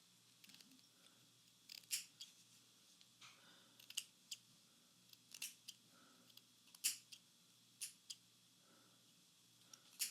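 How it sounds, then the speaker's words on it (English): Scissors snip off extra thread on a chiffon blouse, a dozen or so sharp, close metallic clicks spaced irregularly over quiet room tone. "And then I'm going to cut off some of this extra stuff."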